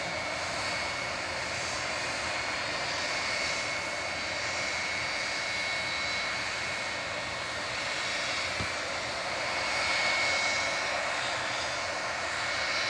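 A departing jet airliner on flight 863 to Mahon, Menorca, rumbles steadily at a distance at a busy Manchester airport, a continuous broad engine roar that swells slightly near the end.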